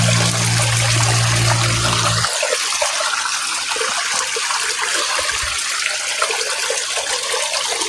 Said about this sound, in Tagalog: Ito parang may kanal na maliit na may tubig na